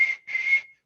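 A human whistle imitates the Tunchi spirit's whistle from Amazonian folklore: two short, clear, high-pitched tones with a brief gap between them, close and distinct.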